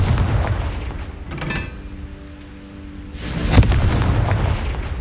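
Confringo fire spell explosions in the video game Hogwarts Legacy, two heavy booming blasts with rumbling tails, one early and a louder one later, amid low-pitched battle noise.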